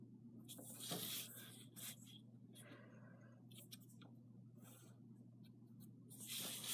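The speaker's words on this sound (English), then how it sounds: "use your ruler and your pencil to darken your existing lines" A graphite pencil scratching along a ruler while drawing a perspective box, soft repeated strokes close to the paper with faint rustling in between, quiet against a low steady hum.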